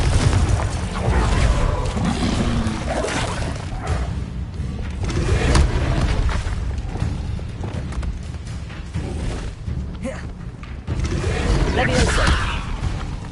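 Confringo explosive spell cast in Hogwarts Legacy, repeated booming blasts and thuds amid busy combat effects and clatter, with a voice calling out the spells over the action.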